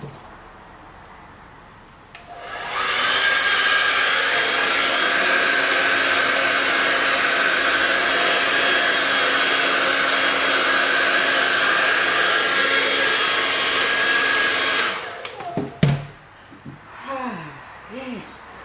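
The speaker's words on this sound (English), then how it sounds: "I'm just going to put the dryer on that bit." Hair dryer blowing steadily at close range for about twelve seconds while drying a handmade fishing float, then switching off, followed by faint breathing and handling sounds.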